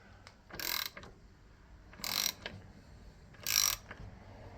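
A ratchet turns a bearing puller installer during front-end suspension work on a Hyundai Elantra, giving three short, bright bursts of metallic clicking about a second and a half apart, close up, with faint mechanical knocks between them.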